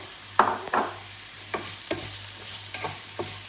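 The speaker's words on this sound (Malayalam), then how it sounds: "ഇനി ഇത് നല്ലപോലെ ഒന്ന് വഴന്ന് കിട്ടണം" Onions sauté with salt in a pan for fish cutlets: a quiet, steady sizzle broken by sharp scrapes and taps as a spatula stirs them every half second or so.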